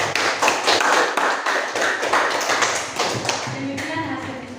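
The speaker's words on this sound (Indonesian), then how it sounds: "kita buat tepuk tangan untuk kelompok 2" Classroom audience gives a group a round of applause: a few seconds of uneven, close hand clapping with some taps and thuds, fading out as a voice begins speaking.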